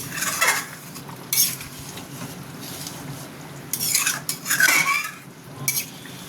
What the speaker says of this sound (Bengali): একটু নাড়িয়ে দেবো, নাহলে নিচে বসে যাবে